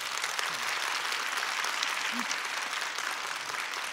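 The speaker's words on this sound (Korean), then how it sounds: "감사의 박수 부탁드립니다" A book concert audience gives a steady, dense round of thank-you applause to a philosophy teacher after his lecture, even and unbroken throughout.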